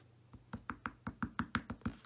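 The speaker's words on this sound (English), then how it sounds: "If it's got bubbles like this one does, you can tap it from the bottom." About ten quick, hollow taps knock on the bottom of a plastic container of liquid in an even, close rhythm, done to release bubbles.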